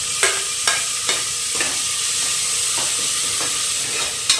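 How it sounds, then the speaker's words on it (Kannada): Chopped tomatoes frying in hot oil for a bone-broth trotter soup masala, a steady close sizzle broken by a few sharp scraping stirs of a spoon against the pan. "ಟೊಮೆಟೊ ಕೂಡ ನೀಟಾಗಿ ಫ್ರೈ ಆಗಬೇಕು."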